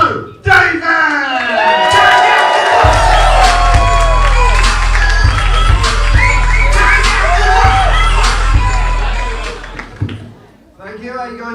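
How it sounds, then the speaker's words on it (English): A comedy club crowd at the Ding Dong Gong Show erupts in loud, sustained applause, cheers and whoops to welcome comedian Joe Davis. A voice shouts over the noise, which fades after about ten seconds. "Please welcome to the stage with the biggest round of applause you can do"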